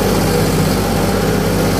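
A New Holland 3630 tractor, running in second gear on a soil track, gives a loud, steady, close diesel drone with a deep rumbling throb and no pauses.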